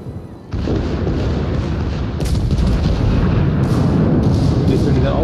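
Heavy, continuous cannon fire and booming blasts from the battleship Friedrich der Große in World of Warships, loud and dense, with repeated explosive bursts layered over a rumbling backdrop.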